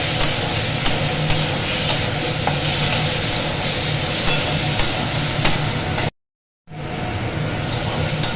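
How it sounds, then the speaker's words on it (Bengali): Soaked soyabean chunks sautéing in a pan for a Bengali potol curry, a loud, steady sizzle with scraping stir strokes running throughout, broken by a brief cut to silence before the frying resumes. "দেবো সোয়াবিন। আর একটু কষিয়ে নেবো ভালো করে।"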